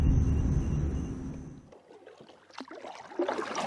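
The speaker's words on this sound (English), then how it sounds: "I am paddling the kayak." An Old Town Topwater 120 PDL kayak is paddled across water. Soft splashes and swishing water fill the first seconds, then give way to quieter, scattered drips and gurgles.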